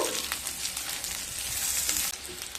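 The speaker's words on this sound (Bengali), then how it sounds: "সবজিগুলো দিয়ে একটু নেড়ে নেব।" Fried vegetables for a bitter gourd dish being stirred in hot oil in a pan, a steady close sizzle with light scraping, alone and moderately loud.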